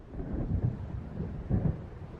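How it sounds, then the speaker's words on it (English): Low rolling rumble of a thunderstorm over open water in the video game Alan Wake, two heavier swells of thunder rising out of a steady murmur of rain and wind, with no voices. "It seems there's a storm coming."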